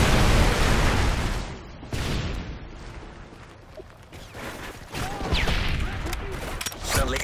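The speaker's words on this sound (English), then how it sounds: "Friendly Predator missile inbound." A Predator missile strike exploding in the video game SCAR: a loud booming blast rolls out, followed by further heavy explosions and crackling gunfire, with a voice heard amid the noise.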